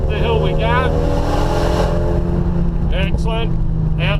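Race car engine revving hard and climbing in pitch as it accelerates up a hill on the Lakeside circuit track, loud and close from inside the cabin, with an instructor talking over it.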